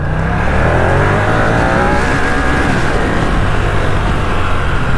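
A powerful superbike engine roars continuously at high revs, loud and close, with a steady sustained drone throughout and no voices.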